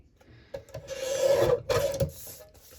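Trimming a journal cover for an Italian-style handmade journal, a close, fairly loud rasping cut drawn across the material in two strokes of about a second each, separated by a brief pause, with no talking.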